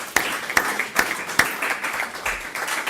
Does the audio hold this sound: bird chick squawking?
no